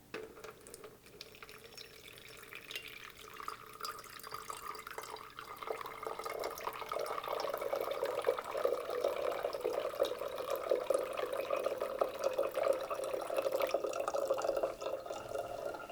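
Settled water dripping and trickling through a coffee filter set in a strainer and funnel into a jar, a faint close patter that thickens into a steadier, continuous flow as the clip goes on, with no talk.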